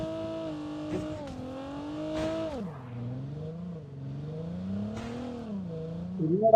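A vehicle driving in the Call of Duty battle royale video game, its engine droning and shifting pitch as it accelerates and slows, moderately loud with a brief rev at the end.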